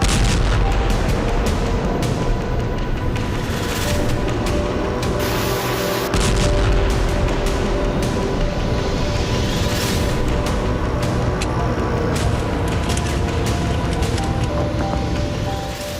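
Missile strikes and explosions in Crimea, dense overlapping booms and sharp cracks layered over a constant rumbling roar, loud and chaotic the whole way with no clear pause.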